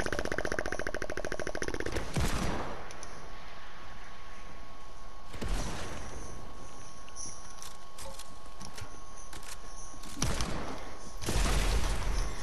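Rifle shots in a video game ring out as a few sharp, loud cracks spaced several seconds apart, each with a short tail, over a steady background of game ambience.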